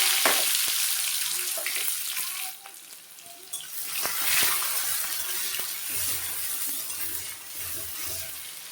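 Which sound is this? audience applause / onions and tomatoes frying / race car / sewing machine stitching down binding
onions and tomatoes frying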